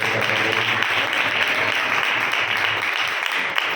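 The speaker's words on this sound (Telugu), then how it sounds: "ఒకసారి చప్పట్లు కొట్టిస్తున్నాం" A church crowd applauds steadily for several seconds at a fasting revival meeting, a dense continuous wash of clapping with faint voices beneath.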